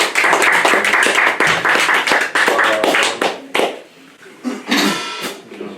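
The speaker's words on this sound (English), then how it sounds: "So I like a round of applause for these guys." At a jazz trio's summer social gig, an audience claps for the musicians in loud bursts of close, uneven clapping that dip briefly into quiet before a final flurry.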